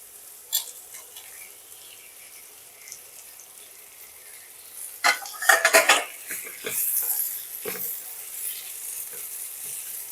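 Spring onion greens fry in a pan for a potato and brinjal chochchori, starting as a faint hiss, then a spoon clatters and scrapes against the metal amid rising sizzling, with a few sharp clinks later on.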